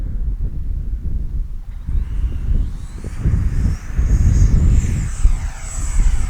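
Small Arrows Marlin RC airplane gliding at very low power, a faint distant engine whine rising and drifting overhead under gusty microphone wind noise.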